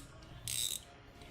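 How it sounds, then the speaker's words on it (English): Bezel of an Aragon Armour 48 chronograph watch being turned by hand, a single quick metallic ratcheting burst of clicks, faint and close. "you can grab the screw to turn the bezel"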